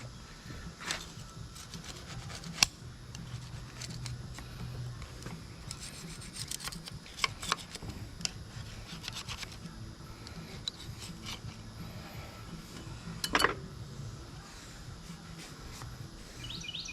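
Quiet, intermittent scraping and rubbing strokes of a small hand scraper working over a metal part, with birds chirping faintly in the background.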